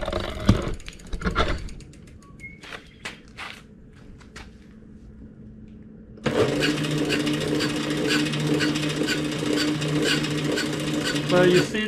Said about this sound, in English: If I turn it on and give a little throttle, it start moving.